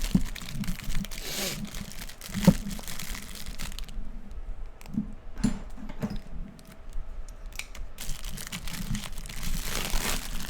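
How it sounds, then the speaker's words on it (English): Paper envelopes being unwrapped, giving close, loud bursts of crinkling and tearing with a brief quieter pause in the middle and no voices. "this is going to be a little loud and obnoxious for a second as I unwrap these envelopes"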